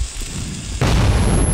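A grenade blast in the shooter Metro 2033, inside the ruined Dead City: a sudden loud, close boom that cuts in partway through and keeps roaring with broad rumbling noise to the end.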